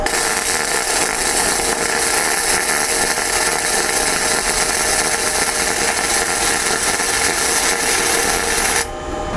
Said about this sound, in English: Now let's run some tests with some different settings on the welder.